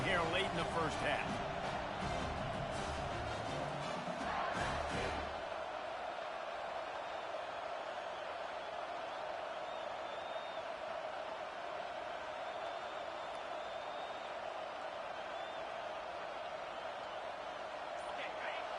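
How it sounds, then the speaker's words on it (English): Dense crowd roar fills a football stadium during a tight late-first-half game as the home fans strain for a fourth-down stop; sustained loud cheering with a steady tone, heavier rumbling and bursts in the first five seconds. "This crowd busting the decibel meter and trying to will a 4th down stop"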